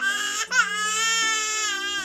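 An infant crying loudly and continuously, a wailing cry with a brief catch of breath near the start, close and alone.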